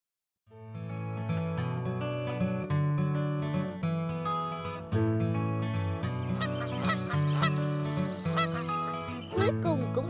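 Wild geese in an animated Vietnamese fairy tale honk repeatedly, with several overlapping calls forming a loud, continuous chorus that starts suddenly and carries on without pause.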